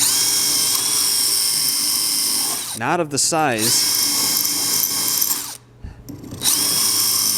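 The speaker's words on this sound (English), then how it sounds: "I'm going to get that drill, ream those out" A high-pitched power drill whines steadily, revving and dropping in pitch twice as it reams out holes on a snowmobile, with someone speaking briefly over it.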